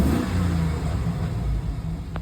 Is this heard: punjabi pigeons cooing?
no